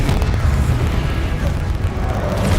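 A Confringo fire spell in Hogwarts Legacy sets off a loud booming blast with a sustained, heavy low-end roar that rumbles on without fading, a voice faintly underneath.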